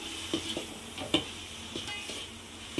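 Paneer cubes fry in hot oil, a soft sizzle broken by several light clicks and scrapes of a spoon stirring against the pan, close and fairly quiet.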